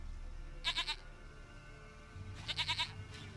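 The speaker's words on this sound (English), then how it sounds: "Goat of mine, dearest, sweetest goat." A goat in The Witcher 3 bleats twice, each time a quick wavering series of nasal pulses. The calls are faint and moderately close, over a quiet low background hum.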